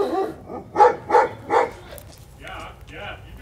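A dog barks three times in quick succession from inside a house, heard through a door during a tense standoff, the barks moderately loud and followed by voices talking.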